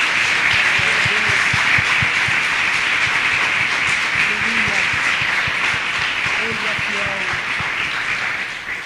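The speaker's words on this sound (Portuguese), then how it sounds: "Você pode aplaudir ao Senhor em nome de Jesus?" A church congregation applauds in a dense, sustained wash of clapping that stays loud throughout. A voice talks over it.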